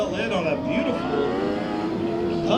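Small lightweight race cars run a dirt track heat race at Kern County Raceway Park, their engine drone rising and falling at a distance beneath a commentator's steady talk.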